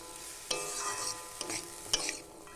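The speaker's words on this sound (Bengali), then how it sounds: "এবারে আলু দিয়ে দিয়েছি, এবারে এটা কষতে থাকবো," Potato pieces stir-fried in a pan for a small-fish curry, with a few sharp spatula scrapes and knocks over a steady close sizzle, and no voices.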